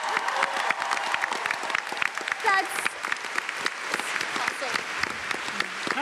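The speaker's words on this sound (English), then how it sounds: "Give him a big round of applause," Audience applause at a Big Bang Theory Comic Con panel, a dense sustained crowd clapping with some cheering throughout, loud and close, with a voice speaking briefly over it.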